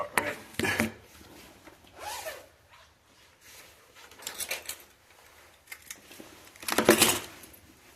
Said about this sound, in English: Even the zippers going on